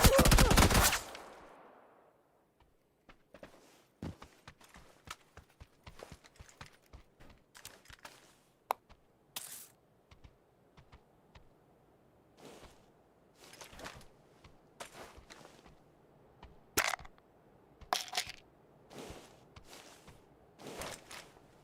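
Gunshots in the PC battle royale PUBG during an esports playoff watch party: a loud blast at the start, then scattered sharp single shots and short bursts at varying distances over a quiet background.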